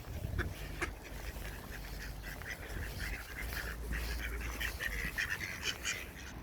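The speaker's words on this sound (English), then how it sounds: "Are the ducks crossing your road?" Ducks quack in scattered bursts as they cross a road during an outdoor walk, the calls moderately close over steady outdoor background noise, with no talk.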